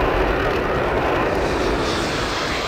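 A Eurofighter Typhoon's jet engines roar while taxiing in Flight Simulator X, a loud, steady, broadband rush that holds evenly for the whole stretch.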